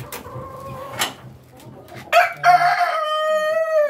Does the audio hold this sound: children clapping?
no